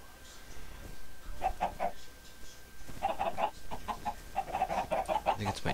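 Minecraft chickens cluck in quick repeated bursts, a few short clucks early and then a longer run of them, moderately loud over a faint background hum.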